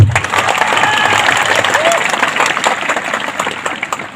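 A large crowd at a political rally for Tipraland claps in a thick, sustained burst with shouts and voices mixed throughout, the clapping thinning slightly toward the end.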